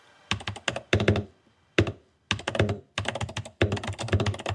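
Bursts of clacky typing on a mechanical keyboard, rapid key strikes in short clusters separated by brief pauses, close and crisp.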